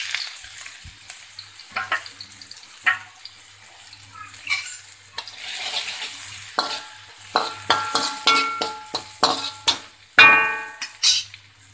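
Onion, ginger, garlic and chili fry in hot oil for tofu ball Manchurian, a crackling sizzle punctuated by repeated scraping stirs and utensil clinks that grow busier toward the end, no voices.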